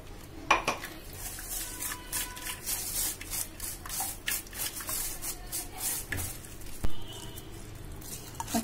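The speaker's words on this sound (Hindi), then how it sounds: "अब हम इसको छन्नी से छान लेंगे।" Crab leg juice being strained through a metal sieve in a home kitchen for crab masala curry, giving close, scraping and clinking metal sounds with occasional sharper taps, irregular and fairly quiet throughout.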